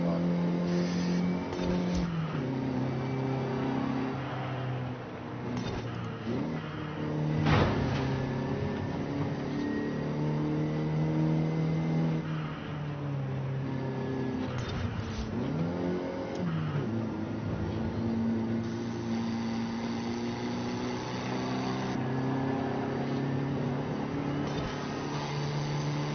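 Turbocharged four-cylinder American car in a racing video game, a steady engine drone that rises and falls as it revs and shifts through gears, loud and continuous, no voices.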